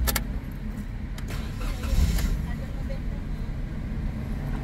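A Toyota Wigo with an injector number 3 misfire cranks and starts up nearby, settling into a rough idle, with voices faintly present.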